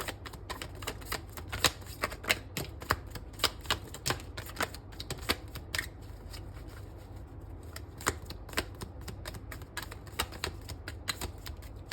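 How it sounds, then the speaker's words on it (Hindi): Handmade cards that stick together are shuffled by hand during a tarot-style reading, giving a steady run of crisp clicks and riffles over about twelve seconds, close and fairly quiet with a low hum beneath and no talk. "ये हैंडमेड कार्ड्स हैं, तो इनको थोड़ा जो है शफल करने में दिक्कत होती है"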